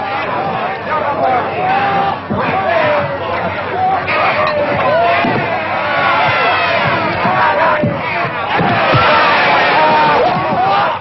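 A rowdy crowd shouts and cheers around a fistfight in an old western, a dense, loud babble of yelling voices with occasional thuds, lasting throughout with speech mixed in.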